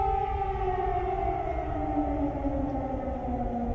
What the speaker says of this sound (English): That's the air raid alarm going off right now in Kyiv.